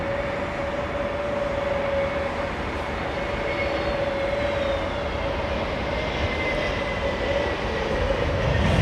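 A landing airliner at London Heathrow roars steadily with its engine thrust reversers deployed, a loud, sustained rumbling whine holding close and continuous with no voices over it.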